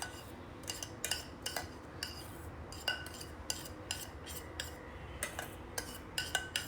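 Mango batter mixture stirred gently in a metal pot, a quiet series of light spoon clinks and taps against the rim at an uneven rhythm, close but faint, no voices.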